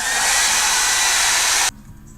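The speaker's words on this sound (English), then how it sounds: "I wonder if I could dry that with a hairdryer." Hair dryer blowing steadily at close range with a loud, even rushing roar, used to dry an art journal page, then cutting off abruptly near the end and leaving a quiet room.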